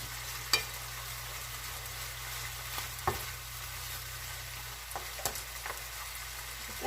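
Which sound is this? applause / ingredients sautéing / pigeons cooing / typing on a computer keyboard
ingredients sautéing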